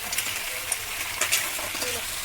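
Onion, tomato and cinnamon masala is stirred as it fries in oil for a spicy crab gravy. The sizzle is loud and constant, with quick spoon scrapes and light clinks on top.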